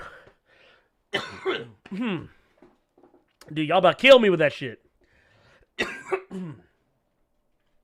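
A man coughs a few times, close and harsh, between bursts of his own speech and short silent gaps.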